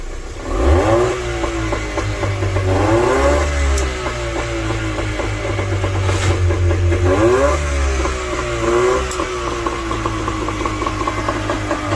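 A houseboat engine idles with a low, steady rumble, then rises and falls in pitch as it revs and is put into gear, loud and close with no talking.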